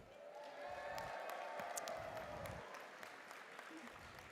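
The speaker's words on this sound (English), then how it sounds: "Let's have a big cheer for everybody who is listening virtually" A banquet audience at a national convention applauds in a steady, dense wash of clapping that holds for several seconds, heard from some distance and fairly faint.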